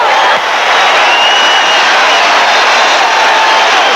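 A large crowd at a 1984 USFL playoff football game, Tampa Bay Bandits at Birmingham Stallions, roars in a steady, dense wall of cheering and shouting for the whole stretch, with no clear voices standing out.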